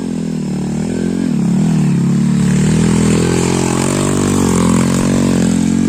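Palm oil truck's engine labouring up a winding uphill road, a steady loud droning rumble that holds throughout with slight pitch shifts as it pulls, close and continuous with no pauses.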